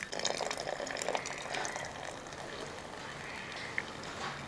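Running water rinses cooked biryani rice in a perforated vessel, a steady, fairly soft splashing stream that continues throughout, close by with a faint background hum.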